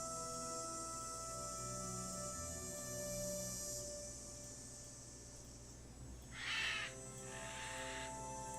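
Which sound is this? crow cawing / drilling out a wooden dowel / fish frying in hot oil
crow cawing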